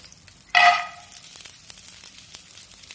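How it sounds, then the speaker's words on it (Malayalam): Almonds hit hot ghee in a pan with a sudden loud sizzling burst that quickly fades to a soft crackle and light stirring scrapes. "ഒരു സ്പൂണ് നെയ്യ് ഒഴിച്ചു കൊടുക്കാം. അതിലേക്ക് നമുക്ക് ബദാം ഇട്ട് കൊടുക്കാം."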